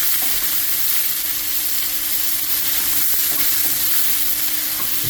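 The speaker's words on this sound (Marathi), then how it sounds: "बरो भाजून घेवपाचो." Half a cup of onion frying in hot oil for Goan pork ribs, a loud, continuous dense sizzle close to the pan with faint stirring, no voices.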